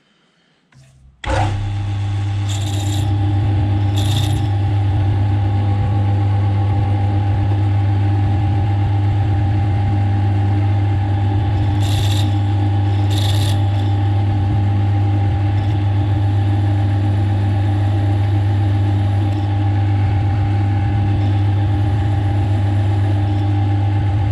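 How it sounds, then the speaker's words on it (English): A drill motor drilling metal for a vice stop starts abruptly and runs at a steady whine for a long stretch, loud and close, with a few brief higher scraping bursts. "so I'll drill this one"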